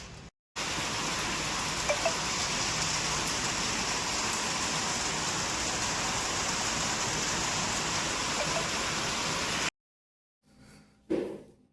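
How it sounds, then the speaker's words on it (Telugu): Light rain begins falling outdoors at a home, a steady hiss of drops on surfaces lasting most of the clip before it cuts to a quieter stretch with a brief rustle near the end. "వర్షం చూడండి లైట్గా స్టార్ట్ అయింది"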